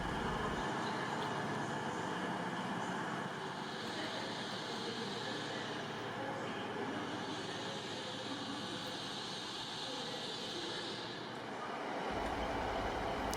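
Onboard a seven-car CrossCountry HST in first class, a steady low rumble and rushing hiss fill the carriage, with a rising and falling whine as the train runs along the line and no talk.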